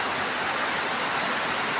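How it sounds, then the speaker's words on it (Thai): Steady light rain falling, a continuous even hiss of drops with no other sounds. "ฝนตก"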